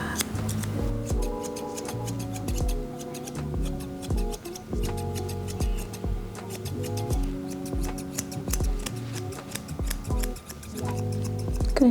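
Scissors snip the coat of a tiny poodle in quick, repeated small clicks. The cuts run throughout under loud background music.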